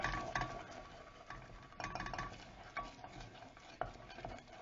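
Scrambled egg being stirred in a pan with a utensil, steady scraping and clinking over a low sizzle, a few sharper knocks of the tool against the pan, close and fairly loud with no talking.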